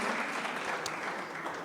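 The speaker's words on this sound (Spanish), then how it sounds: "Denle una ofrenda de palmas al Rey de Gloria" Church congregation applauding as an offering to the King of Glory, a continuous fairly soft patter of many hands clapping together, steady throughout with no talk over it.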